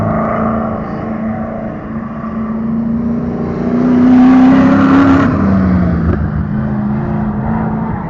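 A big-bore race car at Waterford Hills roars down the back straightaway, a loud sustained engine drone that builds to a peak as it passes close, then drops in pitch and fades away.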